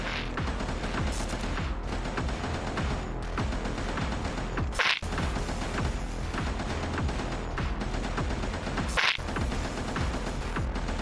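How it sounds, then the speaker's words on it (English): A laser weapon fires in the underwater roguelite Ocean Keeper, a dense, continuous stream of rapid zapping shots under game music, with two sharp bright bursts standing out partway through. "Let's fire the laser off."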